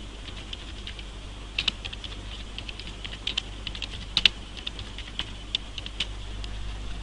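A search query typed on a computer keyboard, with quick, light, irregular key clicks over a low steady hum, fairly close and alone.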